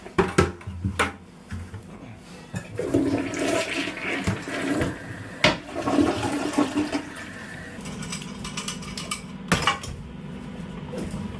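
Dirty water from steam-cleaning a mattress is poured into a toilet that then flushes, a sustained rushing swirl with clinks and clatter of equipment around it, fairly close and steady.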